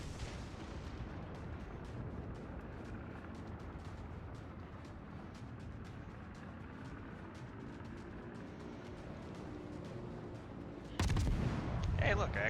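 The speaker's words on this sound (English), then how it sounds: "Hey, look, I actually used the guns." A warship's main guns open fire in World of Warships, a heavy booming salvo that bursts in near the end over a steady drone of sea and engine rumble.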